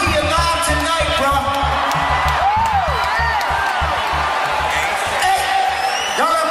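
A large concert crowd screams and cheers without a break, loud and dense, with whoops and yells rising out of the roar over pounding low music.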